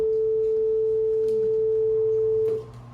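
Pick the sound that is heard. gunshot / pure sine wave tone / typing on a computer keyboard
pure sine wave tone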